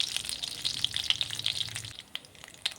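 Black cumin seeds sizzling in hot oil in a pan. A steady, fairly quiet crackle and hiss lasts about two seconds, then thins to sparse pops. No voices.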